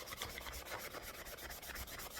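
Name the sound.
sanding the surface of primer paint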